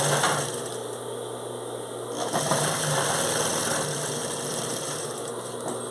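A sewing machine stitches the sides of a fabric shoulder bag, giving off a continuous, fairly quiet motor hum with a steady mechanical vibration and slight changes in tone throughout.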